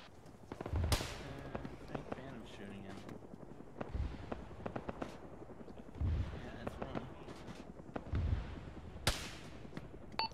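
Gunfire in the military video game ArmA, a scattering of sharp shots and heavier booms at moderate distance, several standing out above a busy battlefield background while players talk over the radio.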